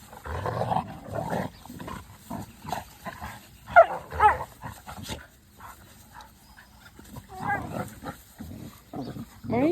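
Dogs, including a pit bull, play-fighting on a farm homestead with rough growls, snarls and yelps in bursts at close range, one loud peak midway.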